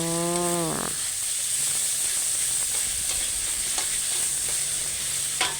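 Minced beef with basil and sugar is stir-fried in a hot pan, a constant loud hissing sizzle with occasional scraping stirs, a high steady tone over it, and a brief electronic beep at the start.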